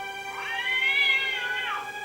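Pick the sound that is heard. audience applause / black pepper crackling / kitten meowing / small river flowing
kitten meowing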